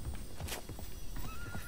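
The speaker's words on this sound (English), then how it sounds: "I hear the horse." A horse whinnies over a steady, busy soundscape in the video game Realm Royal, with thudding hoofbeats running underneath.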